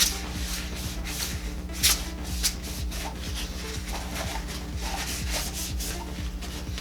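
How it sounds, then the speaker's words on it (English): A rag wipes the inside of the bowl of an Iwata LPH 80 spray gun, making close, soft rubbing and scuffing strokes in a steady back-and-forth rhythm, with no talking. "I always start by wiping the inside of the bowl"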